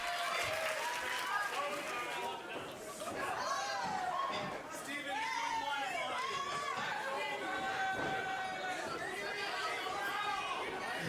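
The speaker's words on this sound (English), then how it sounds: "I love how you can, like, hear, like, individual crowd." A crowd in the WWE Day of Reckoning wrestling video game chatters and calls out, a busy murmur with individual voices rising above it. Steady and moderately loud for the whole stretch.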